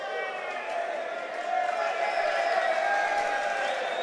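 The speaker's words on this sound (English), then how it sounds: "Some applause from the crowd." Basketball crowd at a school under-19 tournament final breaking into steady applause and cheering during a break in play, a broad wash of clapping that swells midway.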